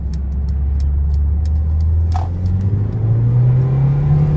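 A 2020 Mercedes A-Class with the AMG pack drives in sport mode, its small engine giving a steady low rumble from inside the cabin that rises in pitch as it accelerates, with no talk over it.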